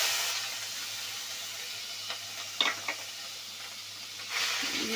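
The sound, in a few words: frying onion paste with spices in oil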